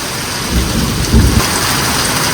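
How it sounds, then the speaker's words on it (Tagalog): Heavy rain pours down in a storm with strong wind, a loud continuous roar broken by low rumbles of thunder, close and dense with no voices. "Ito po yung pinakamalakas na ulan sa hangin."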